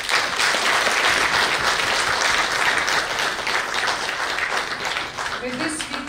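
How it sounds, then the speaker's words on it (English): An audience at a district court inauguration ceremony in Delhi gives a big round of applause, a loud, dense and steady clapping from a full hall that thins slightly near the end. "with a huge round of applause"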